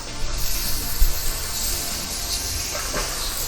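Spring onions frying in a hot pan give off a steady, loud sizzle and hiss, with a small clatter near the start and faint stirring scrapes later.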